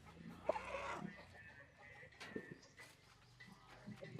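Chickens in a coop, with a rooster among them, clucking and squawking in short irregular bursts at close range, fairly quiet overall with no speech.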